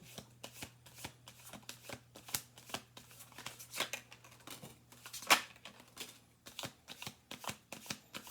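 A deck of tarot cards is shuffled close by on a table, giving a steady run of crisp riffling snaps and flutters with one sharper slap, and no talking.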